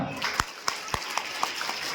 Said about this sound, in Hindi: तो एक बार अपने लिए जोरदार तालियां